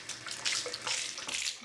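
Water pouring from an espresso machine's steam wand into a container, a faint, steady hissing splash running through the whole short stretch without talk.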